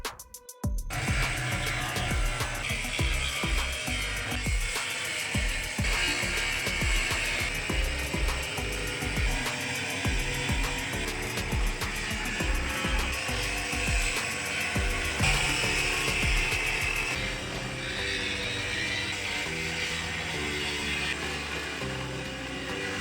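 A metal pipe is cut with a power tool aboard a ship: a loud, continuous grinding and whining roar that runs without a break for over twenty seconds, close up, with no talking.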